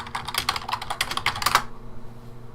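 Rapid, close keyboard typing while a chat message is sent during an online Vintage Cube card game, a quick burst of clicking keys that stops abruptly partway through, leaving quiet room tone.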